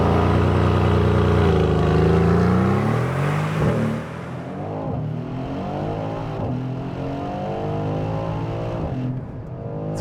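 A new GLC 63 S performance SUV engine revs hard, then settles into a steady, throaty drone as the vehicle cruises along, close and loud throughout.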